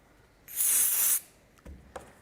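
A single hissing burst of spray adhesive from an aerosol can onto fabric lasts under a second, followed by a couple of soft handling taps.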